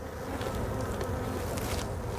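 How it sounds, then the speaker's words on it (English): Honey bees buzz densely and steadily around an open hive while it is being split, a close, continuous swarm drone with no pauses. "Well, your corner has a bunch of bees."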